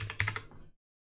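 Quick burst of typing on a computer keyboard, several close, crisp keystrokes in rapid succession over under a second, then silence.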